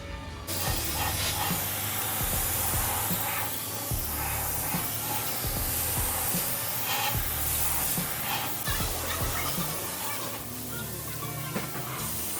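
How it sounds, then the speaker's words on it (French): Blackson underbody coating sprays onto the lower rocker panel of a BMW 750i V12, a loud, continuous aerosol hiss with short pulsing bursts and no voices. "On va quand même mettre un petit centimètre de blackson en bas parce que c'est là que les graviers taperont"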